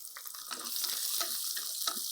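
Small chopped shallots dropped into hot oil in a pan, giving a steady close hiss and sizzle with crackly bursts throughout, no voices.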